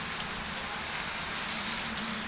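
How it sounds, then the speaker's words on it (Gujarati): Heavy rain pours down at an under-construction building during a stormy spell, a dense, continuous broadband hiss, steady and close with no talking. "પ્રજ્ઞેશભાઈ, કંઈ કહેવું છે આટલા જોરદાર વરસાદ માટે?"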